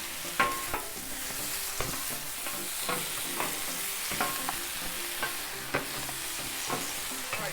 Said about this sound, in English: So we've already flipped the steaks once,